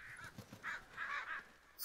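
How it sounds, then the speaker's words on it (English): Crows caw repeatedly in a farm survival video game, several harsh calls in a quick irregular series over an open field, fairly close and clear with no talk over them. "Damn crows."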